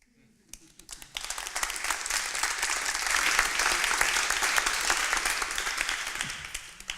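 Applause from a live science-talk audience starts with a few scattered claps, swells into dense, loud clapping, then eases off toward the end, with a voice briefly audible over it.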